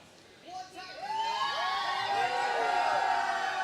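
Spectators at a pickleball league event cheering and whooping, starting quietly and swelling into sustained shouts and rising excited voices, loud and close throughout.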